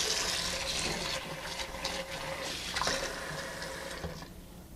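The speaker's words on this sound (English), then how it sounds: "So I let it sit in cold water for a few minutes, and now I'm draining it." Water draining and trickling from a batch of homemade seitan dough after it soaked in cold water, a steady close splashing flow that thins out toward the end.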